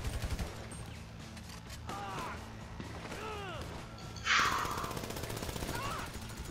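Rapid bursts of automatic gunfire from a GTA 5 firefight, moderately loud with a crackling burst near the middle, under faint voices and game sounds.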